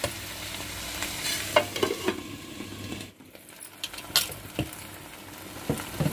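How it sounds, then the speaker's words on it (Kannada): Tomatoes cooking in a pan on low heat, giving a soft steady sizzle with occasional stirring scrapes and clinks, fairly quiet and close. "ನೋಡಿ ಇವಾಗ ಸೌಂಡ್ ಬರ್ತಾ ಇದೆ ಚೆನ್ನಾಗಿ ಬೆಂದಿರುತ್ತೆ ಟೊಮೊಟೊ"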